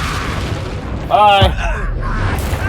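A booming lightning strike in the Hogwarts Legacy video game hits once, loud and close, with a tonal crackle trailing into a low rumble and a brief spoken word nearby.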